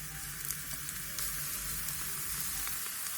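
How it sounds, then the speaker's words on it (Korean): Thick-sliced king oyster mushrooms frying in a lightly oiled pan, a steady close sizzle with faint crackles and light stirring, and no talking. "팬에 기름을 살짝 두른 뒤 두툼하게 썬 새송이 버섯을 앞뒤로 노릇하게"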